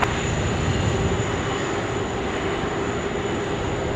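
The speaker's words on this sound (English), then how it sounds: "Beautiful Hainan Airlines coming out now." A Hainan Airlines airliner taxis at Sydney Airport, a steady distant jet-engine whine and broad rumble holding level throughout, with no voices.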